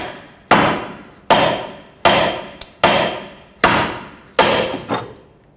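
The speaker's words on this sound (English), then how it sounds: "what I'm gonna do is tap on the knuckle here, pull up at the same time" A hammer striking the steering knuckle of a 2003-2008 Toyota Corolla, sharp metallic blows repeated about every 0.8 seconds, close and loud, each ringing briefly, with a couple of lighter extra taps in between.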